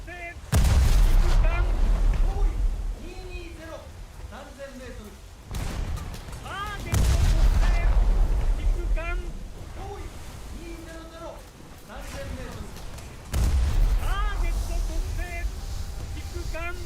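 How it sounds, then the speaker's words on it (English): Heavy booming gunfire from a naval video game, with a ship's secondary guns opening up in a barrage; several loud blasts come in bursts spaced a few seconds apart, under continuous talking. "all of their secondary guns open up as well, which might not do the most damage, but they still damage me"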